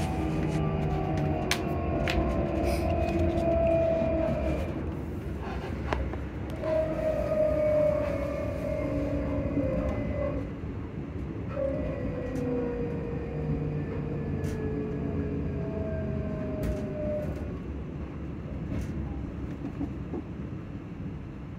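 A passenger train runs steadily along the track, its low rumble and rattling wagons continuous throughout, with drawn-out whining tones rising and fading repeatedly over the roar, heard from inside the carriage.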